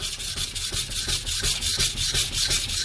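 Kitchen knife drawn over a Naniwa Superstone whetstone to repair a chipped edge, rhythmic back-and-forth scraping strokes repeating steadily, close and clear with no voices.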